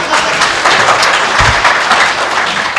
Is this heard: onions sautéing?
no